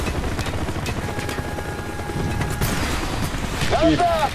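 Helicopter in the Call of Duty Black Ops video game, a steady whirring drone mixed into loud combat noise with mechanical clatter, swelling slightly toward the end.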